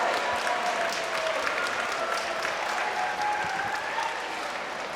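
A crowd at a fight event claps and cheers for the fighters after their bout, a sustained dense wash of applause filling the space with no clear voices on top.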